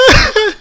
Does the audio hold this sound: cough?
yes